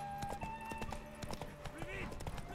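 Galloping horse hooves in The Witcher 3, a brisk train of sharp hoofbeats with a brief whinny-like tone partway through, mixed with game sounds and a voice talking over it.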